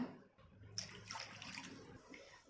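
Water poured from a cup into a pan for making kesari, a quiet brief splashing pour starting after a short pause and running for just over a second, no voices.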